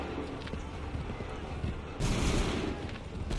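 A musket volley fired by soldiers in Assassin's Creed III, a sudden loud crackling burst of shots that rings out after a stretch of muffled background noise.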